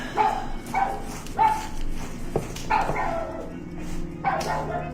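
A dog in Assassin's Creed IV: Black Flag barks about half a dozen times in an uneven rhythm, fairly close, over a low game background.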